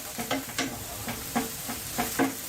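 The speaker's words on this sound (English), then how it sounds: "so the onions are almost browned off" Onions browning in a fajita pan, a soft constant sizzle broken by several short scraping stirs at an uneven rhythm, close and fairly quiet.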